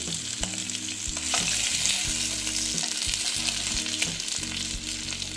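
Chital fish sizzles steadily in hot oil as it is fried crisp, a loud continuous crackle with occasional stirring knocks from a spatula throughout, no voices present.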